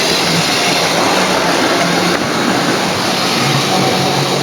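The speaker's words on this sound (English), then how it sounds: "Here comes the train" A model railway train runs nearby with a loud, steady rushing and rumbling roar that holds at an even level throughout.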